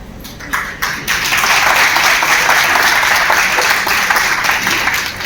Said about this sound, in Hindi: तालियां प्लीज, आप तालियां कर रही है।